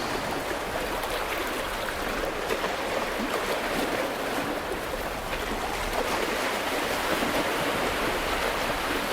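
Steady ocean surf rolling and washing in a continuous, even broadband hiss, with no clear break between waves, heard alone with no voices.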